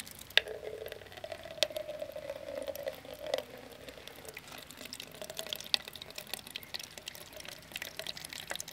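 Ram pump output running from the top of a garden hose into a measuring cup, a soft steady trickle and splash of water with a few small clicks, quiet and close.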